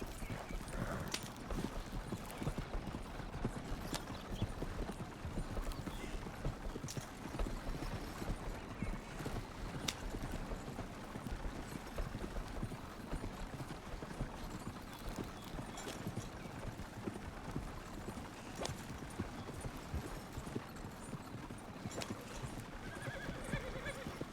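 Continuous clip-clop of horse hooves with neighing rolls on through a Red Dead Redemption 2 Wild West roleplay ride, steady and moderately close, with no one talking.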